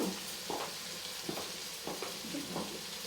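Food steams and fries in a pan during home cooking, a steady soft sizzle broken by regular scraping stir strokes, close and without talk.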